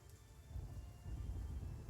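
Rain falls steadily with deep thunder rumbling in the background of a stormy scene, a low continuous roar that swells louder after the first second.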